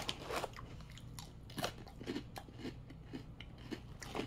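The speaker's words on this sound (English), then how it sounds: "I don't know if you can hear the crunch." Someone bites into a crunchy snack from a Universal Yums box, with sharp crisp crunches followed by repeated close chewing in a steady rhythm.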